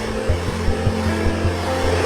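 A hair dryer blower pushes out hot air in a steady, loud, close whoosh with a low motor hum and slight pulsing, no voices.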